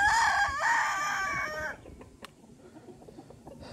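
A rooster crows loudly and close for about two seconds, then hens cluck and scratch softly in the background in a backyard coop.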